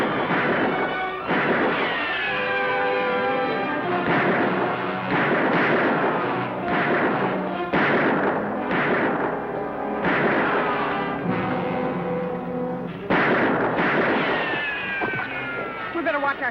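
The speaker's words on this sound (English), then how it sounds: "We better watch our shots, Lofty." Repeated gunshots crack through a western-film shootout, sharp bursts coming in irregular volleys over a steady background, with voices speaking between the shots.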